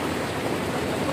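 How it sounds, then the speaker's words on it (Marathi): Rain falls in a dense, even wash of hiss, moderately loud and unbroken for a brief moment, with no voices. "पाऊस पडतोय"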